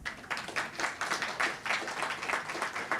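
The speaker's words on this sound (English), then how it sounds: "Round of applause to Chris Hoshnic, Desireé Bewley Dallagiacomo, and DG okpik" Audience applause for poets at an Indigenous poetry event: steady, dense clapping with no pauses, moderately loud throughout.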